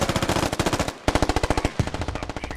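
Rapid automatic gunfire rattles in the SquadOps video game, two close, loud bursts of evenly spaced shots broken by a short pause.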